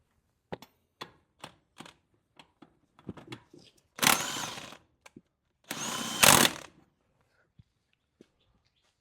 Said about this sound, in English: Let's give her a rip on this lug nut.